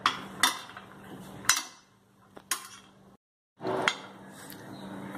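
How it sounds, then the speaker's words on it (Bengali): Aloo kabli, a Bengali street snack of potatoes, is mixed with tamarind paste in a bowl; a spoon knocks and clinks against the bowl in sharp scattered hits between softer scraping and rustling, with one brief silent gap. "এটাকে আমি ভালো করে এবার একবার মাখিয়ে নেব"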